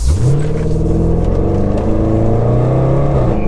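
Range Rover SVR with a 575 bhp engine accelerating hard in dynamic mode, a loud close roar whose pitch climbs and shifts through gears, sustained and heard alone.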